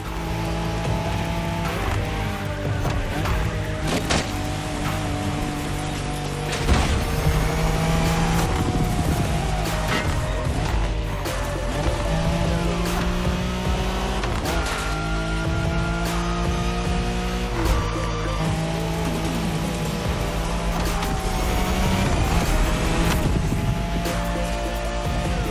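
A Nissan Skyline races through The Crew Motorfest, its engine loud and continuous, with tires squealing at times and gear changes rising and falling, and no talk over it.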